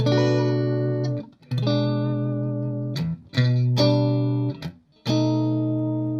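Clean electric guitar notes and chords on a Fender Stratocaster with neck and middle pickups active, ringing out one after another, bright and sustained, with short gaps and a few quick changes.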